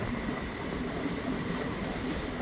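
A Konkan Railway passenger train runs along the track, a continuous low rumble and rattle heard from inside with a faint steady rhythm and a brief high squeal near the end.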